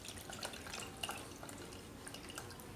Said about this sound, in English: take the juice and pour it here into this strainer.